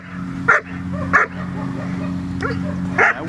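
Dogs barking during bite-sleeve training work, three sharp barks spaced apart over a steady low hum.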